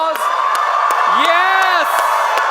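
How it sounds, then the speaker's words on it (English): At a large youth event in Mumbai, a crowd cheers loudly with whoops and sustained shouted voices, the sound continuous and energetic throughout, with sharp individual claps and cries breaking through the roar. "A loud applause."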